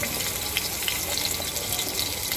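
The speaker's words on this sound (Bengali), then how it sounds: "মাছগুলো ভেজে নেব।" Hilsa fish pieces frying in hot mustard oil in a wok, a steady, dense sizzle and crackle that holds evenly throughout, with no talking.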